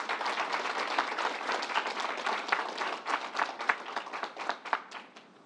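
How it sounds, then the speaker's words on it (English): Crowd applause at the New York State Fair fills the space with dense, sustained clapping from many hands that stays loud throughout, growing more uneven and thinning into distinct individual claps toward the end. "Let's give them a round of applause."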